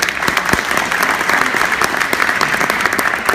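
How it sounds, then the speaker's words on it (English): A final round of applause from the audience for the twins: loud, close, continuous clapping with sharp individual claps standing out over the crowd. "we just want to give you one last round of applause"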